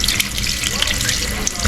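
Tap water runs steadily into a kitchen sink as bone-in beef chunks are rinsed under it for a Filipino beef nilaga. The wash is close, loud and continuous, a broad hiss with small splashes and no talking.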